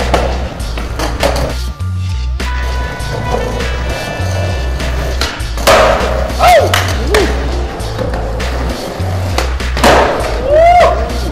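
Skateboard tricks in a game of SKATE: repeated sharp wooden pops, clacks and landing slams with rolling wheel noise on pavement, loud and close, with people talking and calling out between attempts.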